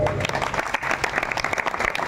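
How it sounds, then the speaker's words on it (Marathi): An audience claps steadily at a Marathi kirtan, dense continuous applause from a crowd filling the space, fairly loud and close throughout. "तुम्ही स्वतःची प्रशंसा म्हणून टाळी एकदा स्वतःसाठी सुंदर वाजवा"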